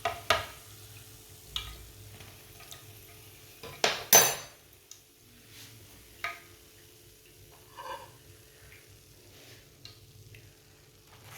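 Freshly fried potato and onion pakoras are set onto a plate with a few sharp clinks and taps of utensil on dish, scattered and close against an otherwise quiet kitchen.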